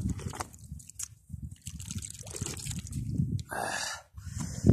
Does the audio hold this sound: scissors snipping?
no